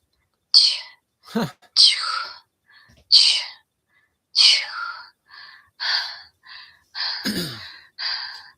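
An AI voice imitates breathing with a run of breathy, whispered exhalations and sharp gasping intakes, about ten short bursts separated by silences, close and fairly loud.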